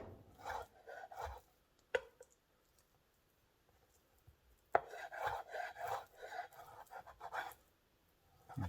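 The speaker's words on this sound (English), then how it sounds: "you take some of the strips and turn them sideways and cut them using that claw into little pieces" A knife cuts food strips into little pieces on a board, giving soft, irregular chopping and scraping strokes, faint and close, with a couple of sharper knocks.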